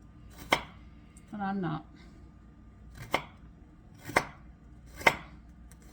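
A knife chops food on a cutting board while making ground lamb and eggplant pasta: four crisp, evenly spaced chops close by, with a short spoken remark between the first and second.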